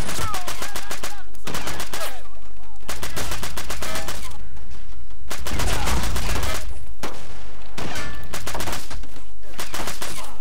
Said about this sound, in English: What was he even shooting at?